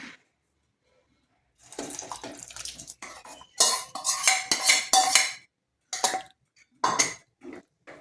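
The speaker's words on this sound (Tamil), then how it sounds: "அதில் காராமணி வெள்ளைப்பயறு அது வேவிச்சு வச்சுருக்கேன். அதை போடுறேன்." Cooked black-eyed peas being added to a pot of brinjal curry: clattering spoon-on-metal scrapes and clinks come in irregular bursts after a quiet start, close and fairly crisp, with no talking.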